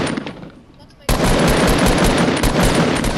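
Rapid automatic gunfire from the battle royale video game Fortnite bursts in loudly after a quieter second and continues as a dense, sustained volley, with faint talk underneath.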